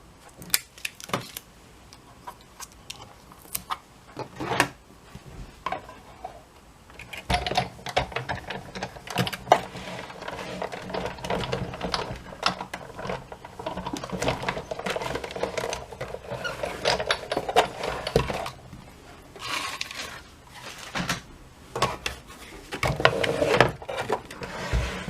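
A die-cutting machine presses a metal die through paper, giving irregular mechanical clicks, ratcheting and clattering bursts with quieter gaps between them, close by and with no talking.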